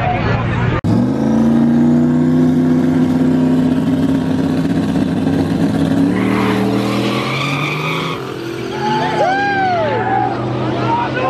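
A Mustang in a street race revs hard, its engine note climbing and falling, with tire squeal and skidding toward the end and voices in the background.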